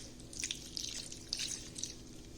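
Two cups of water drizzled over a jackfruit vegan pot roast give a close, splashy trickle in several short uneven bursts, with no talking.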